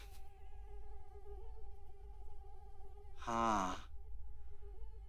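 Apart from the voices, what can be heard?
mosquito buzzing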